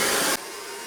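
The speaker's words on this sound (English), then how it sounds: "someone very helpfully told me it's a concentrator nozzle" Hair dryer fitted with a concentrator nozzle blowing on fine wavy hair, a loud steady broadband rush that drops to a quieter hum partway through as the setting changes.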